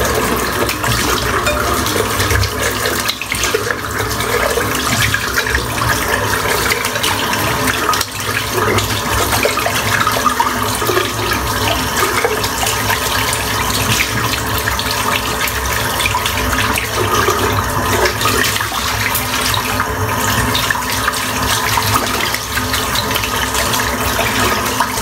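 Water from a tap runs steadily and loudly while soap is rinsed out of a shaving brush, a continuous rushing splash with no talking.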